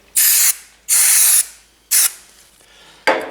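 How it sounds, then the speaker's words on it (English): Brake cleaner sprayed onto the front brake pistons of a 2017 Suzuki V-Strom 1000 motorcycle: four sharp aerosol bursts, the first three lasting about half a second each, the last short, close and loud. "So, brake cleaner, give them a quick spray"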